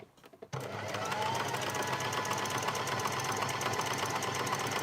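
Sewing machine stitching woven edging on a handspun garment, a steady close motor whir with rapid needle chatter running continuously after a brief start.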